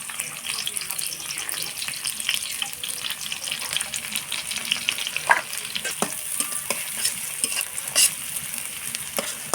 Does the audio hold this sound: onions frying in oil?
yes